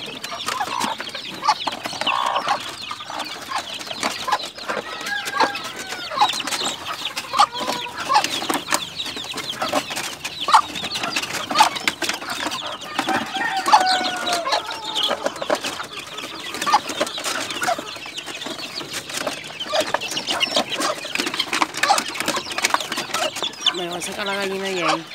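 Hungry chicks chirping and clucking on a farm on a Sunday morning, a busy, overlapping chorus of peeps and clucks running steadily at moderate volume, with occasional human voices in the background.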